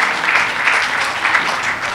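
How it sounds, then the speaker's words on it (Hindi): A large audience stands and applauds at a speech event, with dense, steady clapping that sounds fairly loud and fills the hall without a break. "एक बार सब लोग इनके लिए खड़े होकर तालियां बजाएं"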